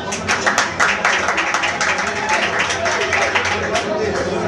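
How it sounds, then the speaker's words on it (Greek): An audience claps at a late-night karaoke party: dense, steady applause that runs throughout, mixed with voices and crowd chatter. "Χειροκρότημα."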